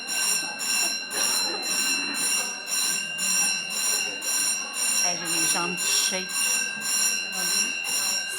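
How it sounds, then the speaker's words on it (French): A fire alarm rings with a steady, pulsing electronic tone that repeats evenly throughout, loud and continuous, while someone speaks over it. "Si c'est une alarme de feu, c'est un peu inquiétant."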